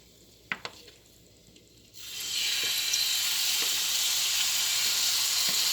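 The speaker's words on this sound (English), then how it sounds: "You see these little bubbles there? Beginning to sizzle." A couple of light clicks, then a loud, steady sizzle of oil frying in a hot pan before chicken is added, close and continuous.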